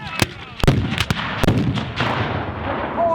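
Cannons fire at a Civil War battle reenactment, with several loud, sharp booms in quick succession mixed with crackling rifle shots. The blasts echo and rumble away across open ground.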